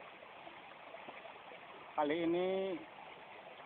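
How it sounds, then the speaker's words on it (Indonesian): A river in Banten runs as a steady broadband rush of flowing water, moderately close, with a voice briefly speaking over it partway through. "saya sudah berada di sungai, di sebuah sungai daerah Banten"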